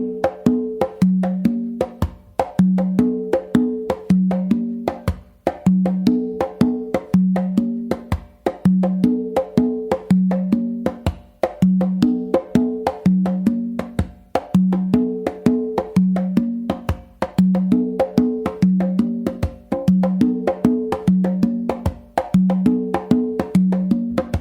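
Full guaguanco rhythm played on four conga drums, a continuous looping groove of open tones, slaps and muted strokes, steady and close with no talking.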